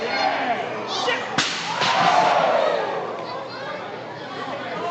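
At an indie wrestling match, a sharp thud from a trash can hit lands early, then a live crowd swells into loud cheering and chatter before easing off, with a commentator talking over it.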